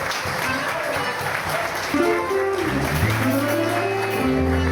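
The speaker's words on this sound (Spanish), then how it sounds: "Para quien pido un caluroso aplauso y a su grupo de trabajo." Warm applause from an audience at a Paraguayan folk music event fills the first couple of seconds, then sustained tonal music enters and carries on beneath the fading claps.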